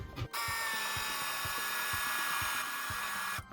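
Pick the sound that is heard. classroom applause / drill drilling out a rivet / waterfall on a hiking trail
drill drilling out a rivet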